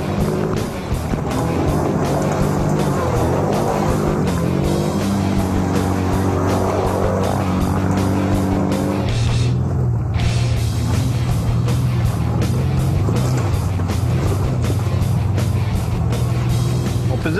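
A Can-Am Outlander Max XT 1000 ATV rides a forest trail, its engine droning loudly and steadily close by, with the pitch shifting as the throttle changes and a brief dip partway through.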